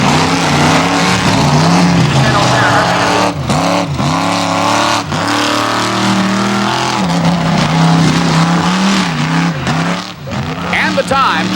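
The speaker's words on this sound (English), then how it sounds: "It's a 1988 Ford. He's got a 460 cubic inch Ford engine under the hood" A 1988 Ford monster truck, the yellow Liquidator with a 460 cubic inch Ford engine, roars loudly and steadily through a timed arena run, its engine pitch climbing and dipping repeatedly while a commentator talks over it.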